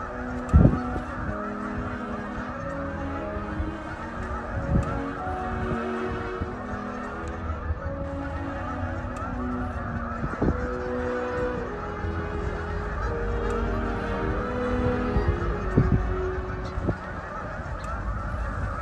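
Migrating geese and other waterfowl honk in a loose, overlapping chorus at Blackwater National Wildlife Refuge, a sanctuary on the Atlantic Flyway in Maryland. The calls come steadily, some near and loud, under a low rumble like passing vehicles.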